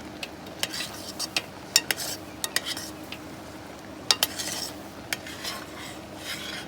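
A spoon stirring masala in a cooking pot at an outdoor picnic, sharp metallic clinks and scrapes in an irregular rhythm over a low sizzling hiss, close and clear with no voices.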